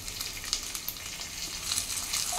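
Ginger garlic paste frying in a pan gives a continuous bright sizzle and spatter, with small pops and a slight swell toward the end.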